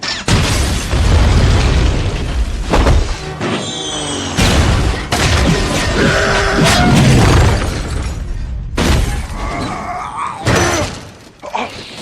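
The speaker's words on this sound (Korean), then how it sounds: "수류탄." Grenade blast in an action film shootout at a hideout, heavy booming explosions and shattering debris in rapid bursts, loud and close, mixed with gunfire-like pops and brief voices.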